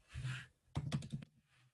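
Typing on a computer keyboard while entering rich-text formatting tags, heard as a short soft burst of key presses followed by a quick run of several distinct clicks, fairly close and alone.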